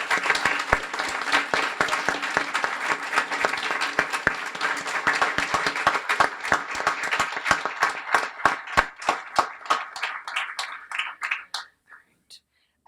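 An audience at a guide dog graduation honours the volunteers with sustained, dense applause. It thins into a few loud individual claps and stops at about twelve seconds, and some murmuring can be heard underneath.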